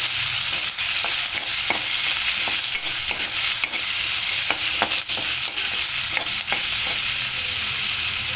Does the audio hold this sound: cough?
no